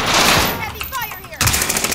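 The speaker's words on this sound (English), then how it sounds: "Heavy fire here." Heavy automatic gunfire in the Call of Duty Warzone video game on Rebirth Island, loud rapid bursts that fade briefly and then return with fresh sharp shots.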